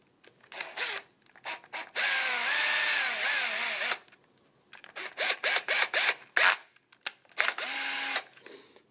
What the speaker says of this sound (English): I'm going to use my drill,